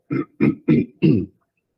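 Four quick, rough throat-clearing grunts come in a row, close and loud, followed by silence.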